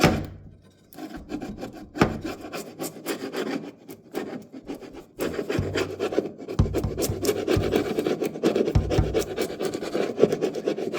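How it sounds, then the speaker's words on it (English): Old caulk is being scraped by hand off a wooden storm window, giving close, rough rasping strokes that repeat steadily and grow denser and louder after a short pause. "I'd rather scrape than sand."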